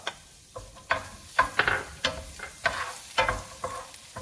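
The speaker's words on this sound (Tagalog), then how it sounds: "So that's sizzle" Onion sautéing in oil in a hot frying pan over medium heat, a steady low sizzle punctuated by repeated crackling pops and spatters of stirring, close and alone with no talk.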